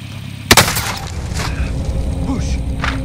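A sharp gunshot-like boom in Call of Duty: Modern Warfare cuts through a busy battlefield mix, followed by scattered cracks and lower rumbling combat noise.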